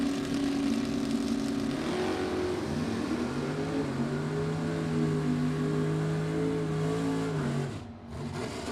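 A 1970 Buick and a Vega wagon drag racing, two engines droning and revving with rising and falling pitch through the run, loud and sustained, then fading abruptly near the end with no talking.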